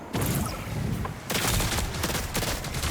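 Rapid bursts of gunfire crackle continuously in the shooter game Marathon, dense overlapping shots in two volleys with a brief gap, loud and close, with no talk.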